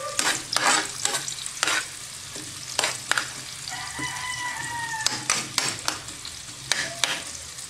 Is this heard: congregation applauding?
no